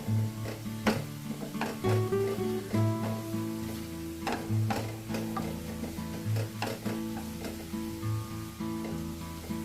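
Onions fry with a spoonful of sugar stirred in to caramelize them, a steady sizzle broken by repeated scraping, clinking spoon strokes against the pan at close range.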